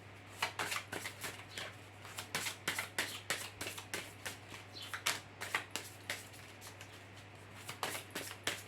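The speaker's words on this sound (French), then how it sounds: "concentrez-vous lorsque je remue les cartes" Tarot cards riffled and shuffled by hand in repeated quick bursts of papery flicks, close and fairly quiet over a steady low hum, with no talking.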